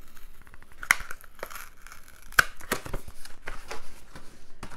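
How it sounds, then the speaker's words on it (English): A small paper envelope is handled and torn open, giving quiet crinkling and rustling with two sharp tearing snaps, close by and otherwise faint. "we've got the little envelope here pop it open"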